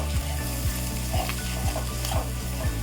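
Garlic, cumin and chili powder fry with onions in a pan for egg fry, a steady close sizzle broken by regular rhythmic scrapes of a spatula stirring the mixture.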